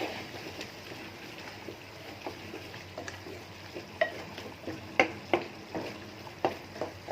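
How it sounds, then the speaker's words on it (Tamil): Rasam with tomato boils and bubbles over in a pot, a soft continuous seething with scattered pops and sharper spits growing denser toward the end, close by, with no speech. "இது ரசம் கொதிக்கிற பொங்கி வருது."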